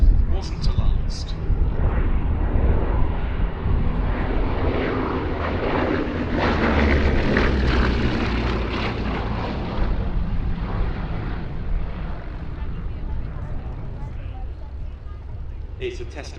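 A Bristol Blenheim powered by twin Bristol Mercury radial engines flies past at an air show, a loud sustained propeller drone that swells toward the middle and slowly fades, with some speech over it.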